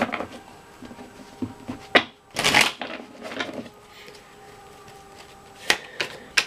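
Tarot cards are shuffled by hand during a reading to draw clarifiers, giving a run of soft riffling, flicking bursts with a sharper burst near the middle, close and fairly quiet, with no talking.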